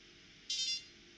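A Samsung Galaxy SmartTag gives one short, high electronic beep when its button is pressed, close and clear, lasting about a third of a second against a quiet background.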